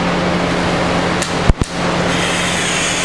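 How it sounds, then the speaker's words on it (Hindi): A steam iron press at a laundry business hisses with a steady broadband rush over a constant electrical hum. Two sharp clicks come partway through, and no voices are present. "ये स्टीम है, स्टीम का आप सुन सकते हो।"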